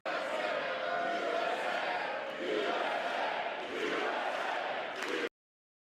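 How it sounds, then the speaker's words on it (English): Loud, sustained booing from a large crowd inside a legislative chamber, a dense roar that holds steady for about five seconds, dips briefly midway, then cuts off abruptly. "More booing."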